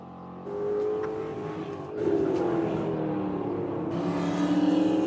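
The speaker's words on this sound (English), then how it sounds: "This is a 69 Camaro" A 1969 Camaro race car at a Lake Elsinore, California track accelerates, its engine revving and climbing in pitch through gear changes, loud and fairly close, with a steady rising whine as it pulls away.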